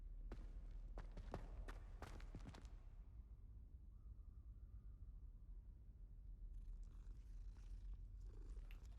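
A cat purrs in Hogwarts Legacy, a soft, faint rhythmic rumble heard up close, with brief sharp taps and clicks early on and quiet game ambience behind.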